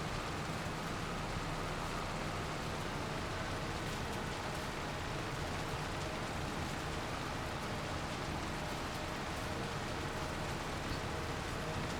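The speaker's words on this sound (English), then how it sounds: "rain" Steady, even hiss of rain in Farming Simulator 25, a continuous broadband wash with no pauses, no talk and nothing else standing out.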